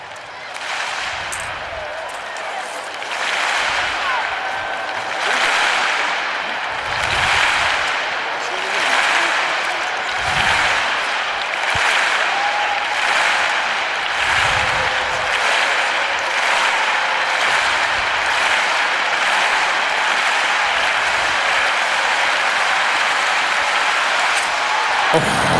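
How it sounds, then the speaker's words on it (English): A stadium crowd at an athletics meeting in Rome claps in a steady rhythm, loud and sustained with beat-like pulses, while a commentator's voice runs underneath. "she couldn't have asked Stuart for any better rhythmic clapping than that"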